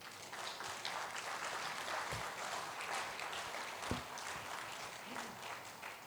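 Quiet, distant clapping from a crowd at a memorial lecture and fundraiser event, a soft continuous patter with a couple of faint thumps.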